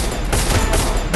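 Sniper gunfire in a video game: three sharp, loud shots crack out at roughly even intervals, each with a short echoing tail.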